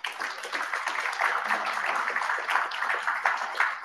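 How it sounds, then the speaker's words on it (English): A meetup audience claps for the food, drink and raffle sponsors: a steady wash of applause that holds evenly from start to finish. "let's give a big hand to the sponsors of food and drink and the raffle prize"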